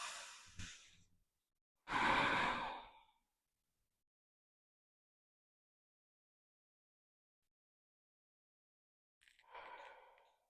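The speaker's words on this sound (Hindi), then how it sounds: "सांस भरो" Breaths during a home belly-fat exercise routine: a short breath at the start, a strong drawn-in inhale around two seconds, then silence and another audible breath near the end, close and quiet, with no talking.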